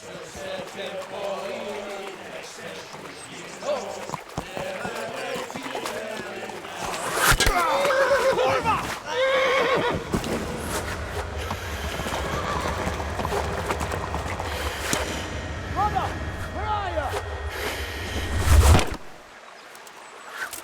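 In the medieval Kingdom Come: Deliverance video game, horse hooves clip-clop on the ground and a horse neighs amid shouting voices, music and bird calls, with a louder burst of hoofbeats and a whinny toward the end.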